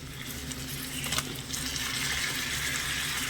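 Raw mango pieces stirred through sugar syrup for a Kashmiri-style mango pickle, a steady wet swishing and sloshing close by with a brief louder scrape around the middle, no voices.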